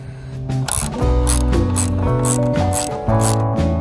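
A ratchet wrench loosening a long motorcycle frame bolt on a 2019 Honda CB500X clicks loudly and rhythmically in quick repeated strokes, close up, with no talking.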